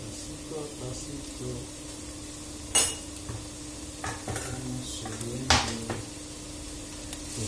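Beet greens and onion frying gently in a pan of oil are stirred with a utensil, giving a steady low sizzle with occasional clinks and scrapes against the pan.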